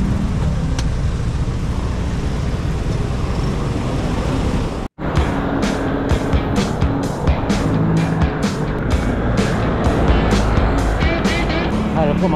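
Road traffic crawls near Malolos City Hall, a dense, loud mix of engines and passing vehicles close by, with a brief dropout midway and rapid rhythmic bursts afterward; no one speaks.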